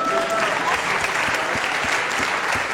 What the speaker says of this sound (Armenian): եկեք իրոք ծափարենք